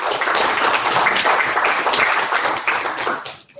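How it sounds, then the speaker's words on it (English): An audience at a college council meeting gives a dense, continuous round of applause that stays loud and steady for several seconds and then tapers off at the end. "I think they deserve another round of applause."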